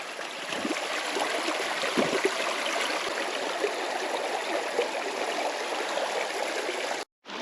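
The rising Dniester river in autumn rushes past a fishing spot where rods stand, a steady, close, broadband roar of flowing water with no talk, briefly cut off near the end.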